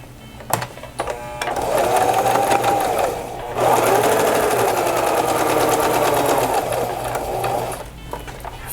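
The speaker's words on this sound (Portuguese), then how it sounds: "E nós vamos costurar a volta inteirinha, deixando uma abertura aqui embaixo." Sewing machine stitching around a fabric notebook cover, a steady close whirring and rapid needle chatter that runs in two long bursts with a brief pause between, starting after a few clicks of setup, with no voice.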